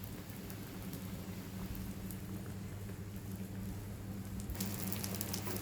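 An egg omelette fries in a pan in a home kitchen, giving a faint, steady, crackling sizzle with occasional louder pops near the end. No voices are heard.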